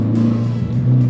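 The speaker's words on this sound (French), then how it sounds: "Je vais essayer d'accélérer progressivement." An Audi car accelerating gradually, its engine giving a close, steady mid-pitched drone that builds slightly toward the end, with no voices over it.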